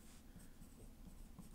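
Pencil lines drawn repeatedly on paper as warm-up strokes, a soft continuous scratchy graphite rasp with faint rhythmic pulses, close and quiet, with no talking.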